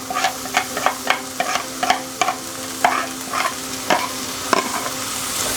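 Onion sautéing alongside meatballs in a pan, a soft sizzle broken by a rhythmic series of distinct spoon scrapes and taps about every half second, close and clear with no talk.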